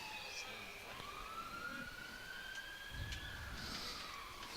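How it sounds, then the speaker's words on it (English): Emergency vehicle sirens wail across Mackay, a long rising-and-falling tone sounding moderately distant over steady outdoor background noise, with faint voices nearby. "There seems to be a lot of sirens around Mackay today."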